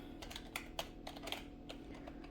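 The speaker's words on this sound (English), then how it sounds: "I have a secondary keyboard down here, so that's what I'm typing on." Fingers tapping on a secondary computer keyboard in a home art studio, a sparse run of quiet, close key clicks at an uneven pace with no talking.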